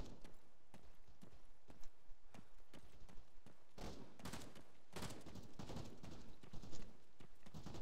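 Gunfire in the Arma 3 video game during a multiplayer firefight, a sparse series of faint distant single shots that builds into denser scattered volleys.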